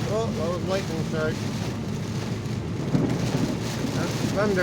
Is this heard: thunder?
yes